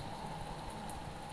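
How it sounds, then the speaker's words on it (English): Acid rain falling in the Roblox game Natural Disaster Survival, a continuous even hiss of rainfall with a dense patter, steady and moderately quiet throughout. "Oh, acid rain."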